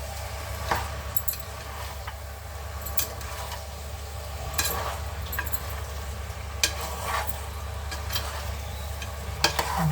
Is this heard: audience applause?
no